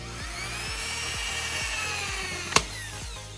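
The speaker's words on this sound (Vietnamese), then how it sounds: "tay viên này thì đang khoan cái gọi là cái cánh tay của cái kính" Power drill boring into the arm of a glass door for a homemade Ferrari build, a steady whining drone with repeated low pulses as the bit bites, and one sharp click near the end.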